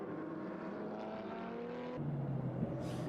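A race car engine drones steadily at a Barcelona circuit during a winter series round, rising in pitch as the car approaches and passes at moderate distance, with no talk over it.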